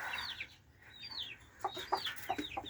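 Mixed breed Brahma chickens cluck faintly in a backyard, with several short, sharp calls in quick succession near the end over a quiet background.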